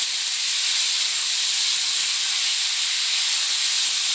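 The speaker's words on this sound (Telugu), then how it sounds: "కడిగి పక్కన పెట్టుకున్న పాలకూర అయితే యాడ్ చేసుకుంటున్నా పాలకూర మొత్తం దగ్గరగా ఫ్రై అవ్వాలి" Washed spinach fries in a hot pan, giving a steady, loud hiss of sizzling that holds evenly throughout with no talking.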